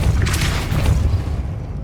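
A Depulso spell is cast in Hogwarts Legacy, a loud, short whooshing boom with a heavy low-end thump that quickly fades.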